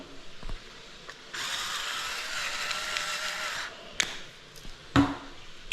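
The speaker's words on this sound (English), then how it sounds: "Don't judge me for the electric pepper grinders." Electric pepper grinders whir in a steady mechanical buzz for about two seconds, close and fairly quiet, followed by a few small clicks and knocks.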